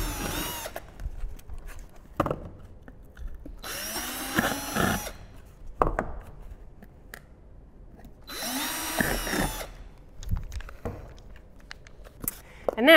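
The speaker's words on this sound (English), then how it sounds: "Now that I know where my holes are, I can drill them." A power drill whines in two short bursts separated by quiet pauses, drilling holes in a wooden box, with light handling clatter in between.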